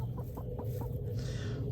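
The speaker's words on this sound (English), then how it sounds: "I come and hand feed my chickens every day." Backyard chickens cluck in a short series of repeated soft calls close by, with steady low farmyard background noise and no talk.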